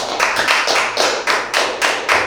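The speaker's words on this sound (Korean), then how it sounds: "박수 한번 부탁드릴게요." A group of students in a comedy class claps in quick, uneven bursts that rise and fall for a couple of seconds, fairly loud and close, with no talking over it.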